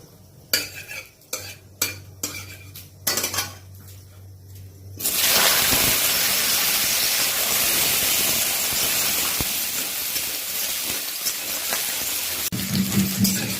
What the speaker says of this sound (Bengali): ফোড়নটা একটু ফুটে যাক, আলু দিয়ে দেবো।